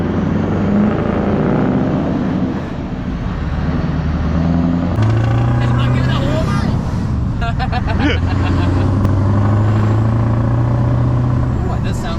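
A straight-piped Scania V8 truck engine drones loudly and pulls hard under acceleration, with a gear change partway through. The tone deepens and grows stronger, close up from inside the cab, while people talk over the engine.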